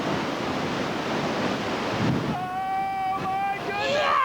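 Rushing whitewater river rapids in a gorge, a loud continuous roar of churning water with wind buffeting the microphone, later joined by a high whistling tone and shouting voices.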